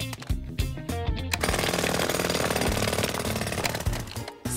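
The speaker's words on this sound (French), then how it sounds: "Tu te souviens comment faire marcher le marteau-piqueur?" A cartoon jackhammer breaks up a road: a loud, rapid, continuous hammering burst that starts after a moment of lighter clattering and runs steadily to the end.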